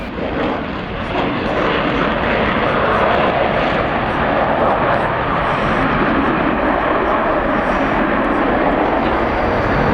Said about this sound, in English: As he flies along the crowd, Jonny will roll the jet through 360 degrees, hesitating at each 90.